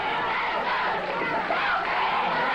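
A wrestling arena crowd at a 1981 Georgia Championship Wrestling event chants for DiBiase, a dense, steady roar of many voices filling the hall at a constant level.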